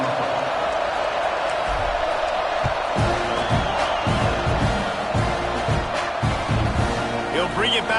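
A football stadium crowd roars and cheers before kickoff in a college football video game, a dense continuous wall of noise with whoops rising out of it, while a commentator talks over it.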